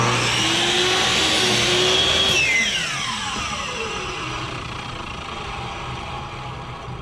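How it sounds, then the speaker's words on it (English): A miter box saw runs at full speed and cuts through a wooden board held tight to the table, fence and stop: a loud, steady motor whine with a harsh cutting roar, then the blade winds down in a falling tone. "I'll go ahead and let it reach full speed, cut it through, making sure I'm tight to the table"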